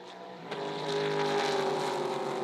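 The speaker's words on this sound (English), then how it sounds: "Love the sound of those V8s as they stretch the legs in the Trans Ams." V8 Trans Am race cars racing at the Phillip Island circuit: a continuous engine roar whose pitch climbs steadily as the cars accelerate, heard from a moderate distance with no talking.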